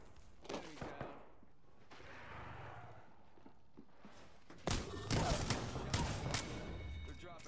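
Gunfire in the video game Apex Legends: a few scattered shots and thumps early on, then a dense, louder volley of rapid automatic fire over the last few seconds, with game noise around it.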